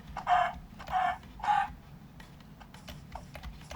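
Chickens cluck three times in quick succession in the Minecraft video game, soft short calls evenly spaced, followed by faint clicking like keyboard taps.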